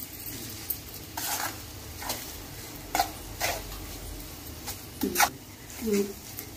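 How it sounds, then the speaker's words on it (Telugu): Stirring spicy Andhra-style fish masala in a pan: faint scrapes and clinks of a spoon against the pan under a soft sizzle, in irregular strokes, while a person talks throughout. "అంత కలిసేలాగా తిప్పుకున్నానండి"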